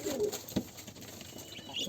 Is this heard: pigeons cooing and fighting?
yes